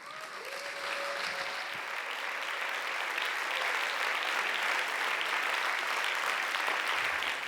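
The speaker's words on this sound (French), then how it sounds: "sous un tonnerre d'applaudissements" A large audience claps steadily and loudly as artist Michelangelo Pistoletto walks onto the stage, a dense sustained wash of applause with a faint voice briefly at the start.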